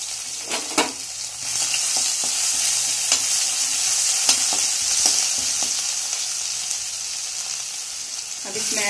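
Ginger garlic paste frying in a pan with cumin, giving off a steady loud hiss and sizzle. Spoon scrapes and stirring knocks come through clearly, the noise stays close and continuous, and no one speaks.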